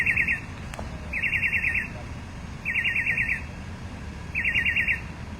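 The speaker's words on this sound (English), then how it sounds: "Yeah, the bird." Small bird chirping in quick trilled bursts, four short runs spaced about a second apart, clear over a steady outdoor background hum of traffic.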